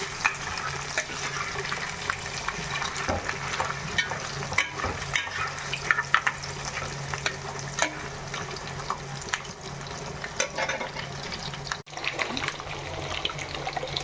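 Ingredients for an Andhra-style fish curry frying until red give a continuous moderate sizzle with intermittent clicks and stirring scrapes, heard close and uninterrupted by speech.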